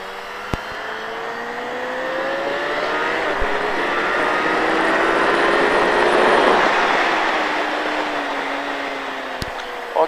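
A motorcycle accelerates out of a corner on a race track, its engine note rising steadily and loud and close throughout, with no talk.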